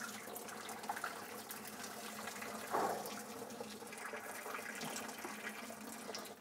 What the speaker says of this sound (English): to drain the pasta